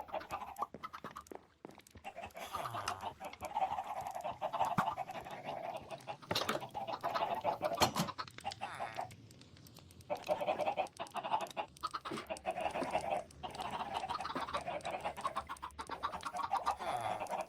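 Chickens cluck continuously on a video game chicken farm, a dense close chorus of overlapping clucks and squawks with brief pauses and sharp clicks mixed in.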